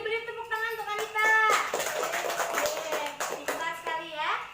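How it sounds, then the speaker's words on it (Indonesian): A classroom of pupils claps for a student, bursts of hand clapping mixed with children's voices calling out together at close range. "Beri tepuk tangan untuk Anita."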